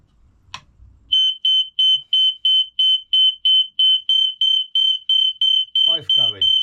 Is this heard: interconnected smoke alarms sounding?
yes